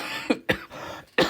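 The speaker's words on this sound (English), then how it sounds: "I've still this really annoying cough that seems to still be biting me in the arse the whole way through this illness" Several harsh coughs from someone with a lingering illness come in quick, separate bursts close to the microphone, with short pauses between them.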